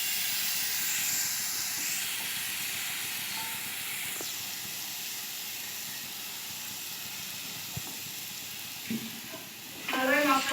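Boiled figs and potatoes stir-fried with spices in a pan make a soft, steady hissing sizzle with a few faint spatula taps, ending in a brief louder scrape of stirring.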